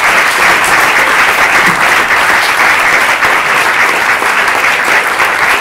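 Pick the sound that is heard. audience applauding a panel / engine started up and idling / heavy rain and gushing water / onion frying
audience applauding a panel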